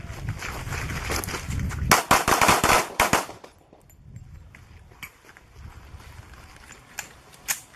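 Handgun fire in a shooting drill, with a fast, loud string of shots in the first few seconds, followed by fainter scattered pops and clicks.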